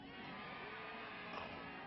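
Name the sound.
lacrosse crowd cheering a near goal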